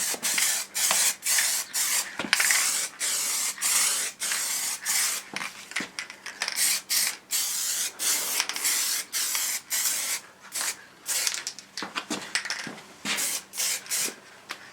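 Liquid wrap coating is sprayed onto a Triumph Tiger motorcycle in repeated short hissing bursts with brief gaps between them, close and fairly steady in rhythm, with no voices.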